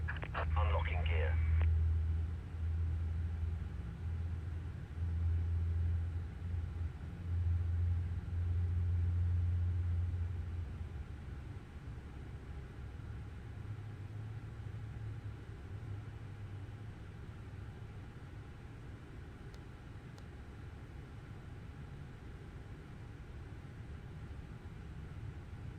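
Boeing 787 engines running after start in a flight simulator video game, a steady low droning rumble with a faint high whine that holds throughout, louder in the first ten seconds and then settling slightly quieter.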